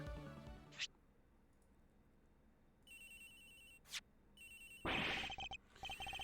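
Ringing phone in the video game Ace Attorney Investigations, repeated electronic ring bursts with quiet gaps and short blips between them, fairly clear and unaccompanied by talk.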